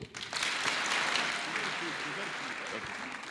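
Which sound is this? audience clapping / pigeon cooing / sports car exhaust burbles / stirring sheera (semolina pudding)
audience clapping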